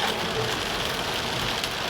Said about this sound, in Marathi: धुवाधार पाऊस पडतोय पुण्यामध्ये